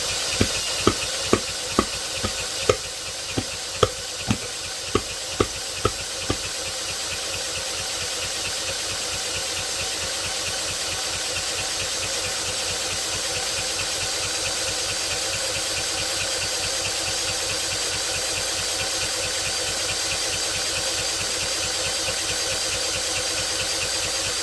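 An iPower 2000 watt inverter generator cranks with a handful of loud pull-start knocks, then settles into a steady close running drone with a rapid even chug.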